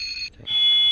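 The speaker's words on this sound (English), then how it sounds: "Have the alarm bell." A LokSound decoder in an HO-scale Bachmann 765 steam locomotive sounds its alarm bell: a shrill electronic high-pitched tone, briefly interrupted then resuming steady and loud, short and alone.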